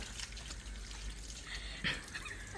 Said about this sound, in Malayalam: ഇത് വെള്ളം കോരി ഒഴിച്ചു കൊടുക്കുക ആദ്യം